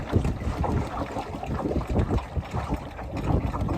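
Wind buffeting a small sailboat on open water, a steady broadband rush with gusty low rumbles and hull water noise throughout, close and fairly loud, with no talking.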